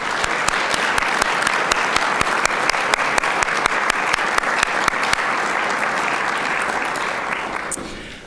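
A press-conference audience claps loudly and steadily for a group, a dense close ovation that holds for about eight seconds before trailing off at the end.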